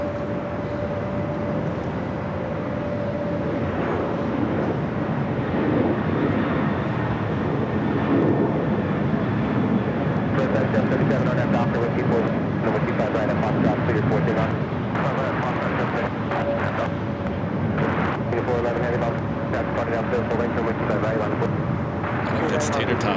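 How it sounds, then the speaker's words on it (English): A United Airbus A321neo at Los Angeles LAX gives a sustained jet engine roar with a steady whining tone, swelling and holding loud as the airliner moves nearby. "We do have that United A321 Neo."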